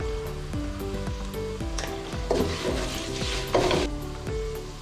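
Turmeric and chilli powder sizzle as they are stirred into hot oil in a pan, a steady close frying hiss with scraping strokes of the spoon repeating at an even pace, no voices.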